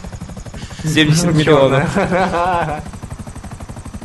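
A helicopter in the GTA Online video game gives a steady rhythmic rotor thump throughout, loud and close, while someone talks over it in the middle.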